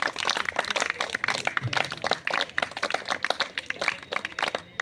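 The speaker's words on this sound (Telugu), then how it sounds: "గట్టిగా క్లాప్స్ మీరు" At a municipal high school review meeting, an audience claps as parents are called up to the stage, producing an irregular patter of many hands, moderately loud, with loose uneven bursts.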